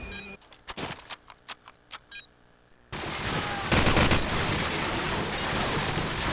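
Video game gunfire coming from many directions: a string of sharp separate shots, then a sudden dense, loud barrage of continuous fire that keeps going, with no talking.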